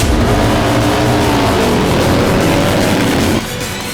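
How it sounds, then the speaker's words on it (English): Harley-Davidson bagger motorcycles race hard on a track in a three-lap sprint, a loud, continuous engine roar holding steady for several seconds before dropping off abruptly near the end. "The Harleys already showing their speed, putting a little bit of gap between themselves and Bobby Fong on the Indian Challenger"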